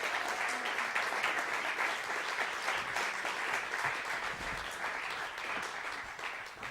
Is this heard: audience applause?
yes